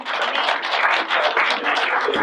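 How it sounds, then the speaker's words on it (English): Audience clapping at a networking breakfast, a dense, steady wash of many hands that stays loud and even for the whole stretch with no voices. "So a round of applause"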